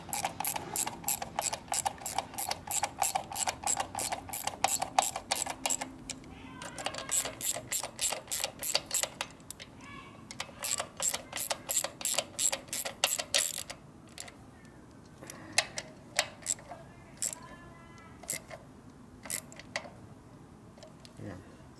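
Ratchet wrench clicking as a bolt is torqued on a 1970 Harley-Davidson XLCH Ironhead Sportster bobber build; fast steady bursts of ratcheting, then slower separate clicks near the end, with a voice heard briefly.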